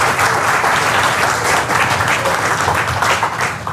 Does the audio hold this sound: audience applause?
yes